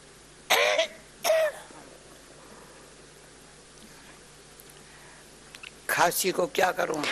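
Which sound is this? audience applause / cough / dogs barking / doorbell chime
cough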